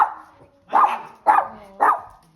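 Dogs bark near and loud outdoors in Calgary, four sharp barks spaced about half a second apart, with no voices.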